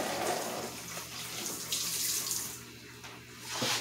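Tap water runs steadily into a sink while an onion is rinsed under it for broad bean stew, a close, continuous splashing flow with no talking.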